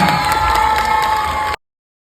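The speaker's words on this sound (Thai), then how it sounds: "ชอบมากถ้าชอบอย่างนี้ต้องปรบมือให้กับพ่วงกับคนนี้ครับ" A studio audience at a Thai BL series finale fan event cheers and shouts in a short, steady burst, loud and close, then cuts off abruptly.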